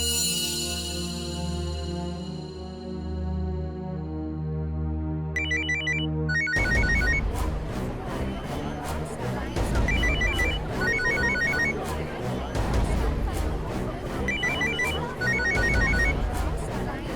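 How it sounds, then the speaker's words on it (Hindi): A mobile phone rings in a Hindi courtroom drama scene, a sustained tonal ring giving way to a louder, busier ringtone melody with repeating chimes that plays on steadily throughout. "आप उठाइए अपना मोबाइल, उठाइए ना।"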